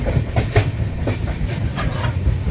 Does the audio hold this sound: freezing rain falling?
no